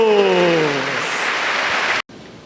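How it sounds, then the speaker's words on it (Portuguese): Church congregation applauding for Jesus, a dense wash of clapping that swells briefly and then cuts off, with the tail of a voice fading at the start. "E aplaudamos a Jesus."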